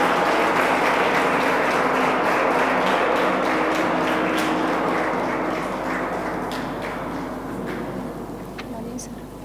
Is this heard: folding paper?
no